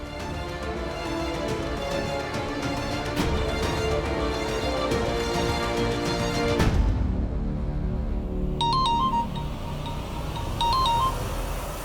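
A phone call's electronic ringing tone, two short repeated trills in the final seconds, following a stretch of loud background music.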